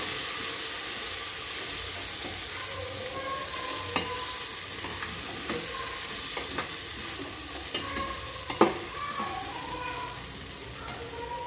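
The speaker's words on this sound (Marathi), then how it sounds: "हे सर्व आपल्याला मसाले ह्याच्यात टाकून घ्यायचे बघा आणि हे छान एकदा परत एकदा हलवून घ्यायचे आपल्याला" Spices and turmeric stirred into hot oil for Marathi-style masala rice: a steady sizzle and hiss runs throughout, with scattered spoon scrapes and clicks against the pan, heard up close with no talking.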